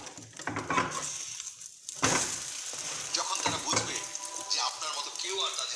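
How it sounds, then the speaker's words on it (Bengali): An egg fries in oil with a soft, continuous sizzle and hiss, punctuated by a few stirring and scraping clicks, while a person talks nearby. "দেখছেন কেমন ডিম ভাজলাম।"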